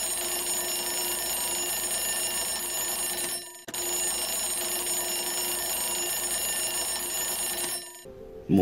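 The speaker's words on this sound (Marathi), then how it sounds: "मोबाईलचा अलार्म वाजला." A mobile phone alarm rings in a steady sustained electronic tone, fairly close, with a brief pause partway through and another break just before the end.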